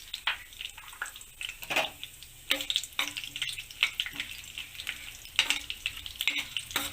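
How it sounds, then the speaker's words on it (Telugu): Peanuts tipped into hot oil with crackling tempering spices, sizzling steadily while a spoon stirs and scrapes the pan in irregular bursts, close and fairly quiet, with no talking. "ఇవి కొంచెం చిటపటలాడుతున్నప్పుడు పల్లీలు వేసేసుకోవాలండి."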